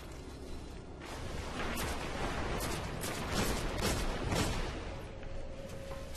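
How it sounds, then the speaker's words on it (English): Gunfire in a Destiny Iron Banner multiplayer match, a dense, continuous barrage of overlapping shots and blasts that swells in the middle and stays loud throughout, with no talking. "I hear gunshots going on all over the place."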